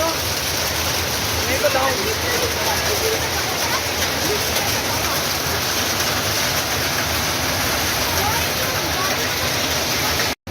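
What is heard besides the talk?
heavy rain at Jageshwar Dham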